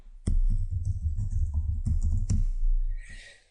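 Someone types on a computer keyboard while writing HTML code. Close, clear key clicks tap in an uneven run for about three seconds, then trail off into faint rustling.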